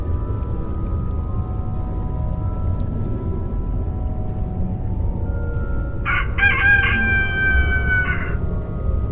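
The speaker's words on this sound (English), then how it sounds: "The sun has risen and the rooster crows." Rooster crow from the adventure game A Vampyre Story, a single loud cock-a-doodle-doo arriving late over a steady low ambient hum, standing alone without talk.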